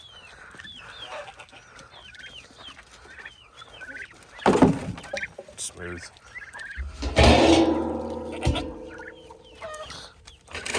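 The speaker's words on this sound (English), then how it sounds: "Chickens!" Several chickens cluck and squawk nearby in irregular bursts, with a loud rustle and clatter partway through and a brief spoken word.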